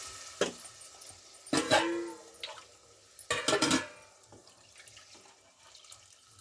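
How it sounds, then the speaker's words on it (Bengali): Water poured into a pot of frying chicken korma and potatoes, bringing a few short splashing gushes with hissing and clinks of the pot, near and moderately loud. "এবার আমি পরিমাণ মতো পানি দিয়ে দিলাম।"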